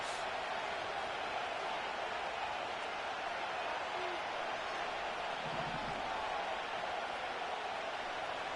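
Dense, roaring stadium crowd noise from a Madden football video game, a constant loud wash of cheering voices before a third-and-inches play, with no breaks and faint commentary under it.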